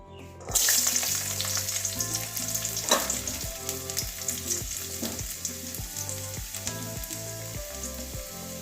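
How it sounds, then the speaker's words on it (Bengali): Garlic cloves drop into hot oil for tempering and burst into a loud, steady sizzle that holds throughout. A melodic tonal background runs underneath. "রসুন কটা ভেজে নেব আগে"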